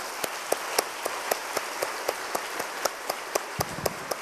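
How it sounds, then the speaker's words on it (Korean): A church congregation at an autumn revival service welcomes a visiting guest with clapping, heard as a steady, evenly spaced run of distinct, fairly quiet claps rather than a dense ovation. "우리 임성사님 나오실 때 뜨거운 박수로 맞으시죠"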